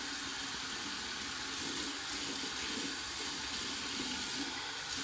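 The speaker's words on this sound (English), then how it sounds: "Now we're gonna put some warm water in the sink and get the brush in there." Warm water runs steadily from a tap into a sink, a continuous even splashing hiss that stays constant for several seconds with no voices.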